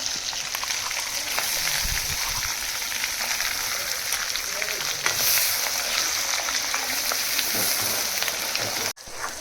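Thick cashew and almond paste sizzling and bubbling in oil for kaju curry, with continuous close crackle, occasional soft stirring scrapes, and a brief dropout near the end.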